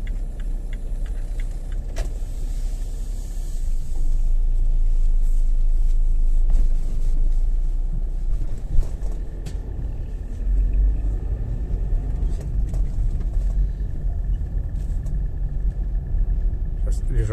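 Car driving through the RAF housing estate in Jelgava on an autumn day, approaching a speed bump: a steady low engine and road rumble from inside the cabin, swelling slightly midway and holding constant throughout.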